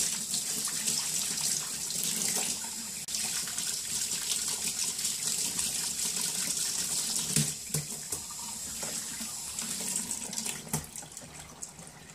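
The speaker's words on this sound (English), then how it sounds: "So get the water running." Tap water running into a sink while paint tools are washed, a steady close gushing splash throughout with occasional clatters from brushes and tools.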